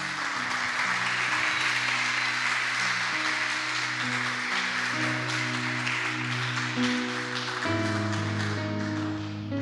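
A church congregation applauds steadily over sustained organ or keyboard chords, a broad wash of clapping under the music that holds throughout.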